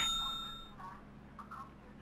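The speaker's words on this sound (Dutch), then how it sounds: "Belletje drukken." A doorbell is pressed outside a building, giving a single clear ding that rings out and fades, followed by faint knocks or small sounds in a quiet setting.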